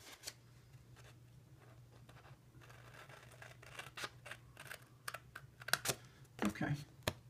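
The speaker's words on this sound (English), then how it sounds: "I'm going to just cut this off right quick." Scissors cut through scored cardstock in a run of crisp, close snips that grow more frequent toward the end, with quiet handling in between.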